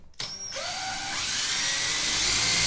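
Power drill spinning up and boring through a template, a whining motor that rises in pitch after a brief start and then settles into a steady, loud grinding drone.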